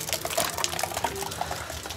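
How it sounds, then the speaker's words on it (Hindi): Heavy rain pours steadily, a dense wash of splashing water with scattered drips and gurgles, continuous and fairly loud. "बारिश बढ़िया हो रही है।"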